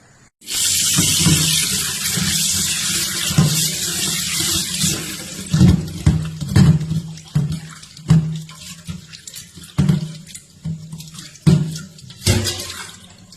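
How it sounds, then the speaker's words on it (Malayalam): Butterfly pea flowers washed under a running kitchen tap, a steady gush of water splashing into a sink with intermittent thumps and sloshes as the flowers are handled, no talking. "ഈ ശംഖുപുഷ്പം നമുക്ക് നന്നായി ഒന്ന് വെള്ളത്തിൽ കഴുകിയെടുക്കാം"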